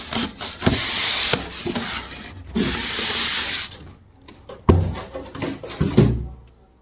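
A Zebronics Juke 9551 5.2 Dolby speaker set being lifted out of its cardboard box, with loud rubbing and scraping of packaging, a brief quiet pause, then several sharp knocks and thuds as the unit is handled. No speech.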